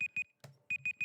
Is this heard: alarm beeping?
yes